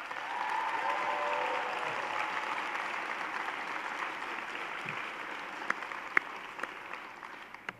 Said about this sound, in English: I ask our graduates to give their family and friends a warm round of applause.